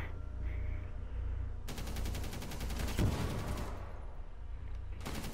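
Automatic gunfire rattles in long, rapid bursts during a ranked Rainbow Six Siege match. One sustained burst runs for about two seconds, and another starts near the end over steady background game noise.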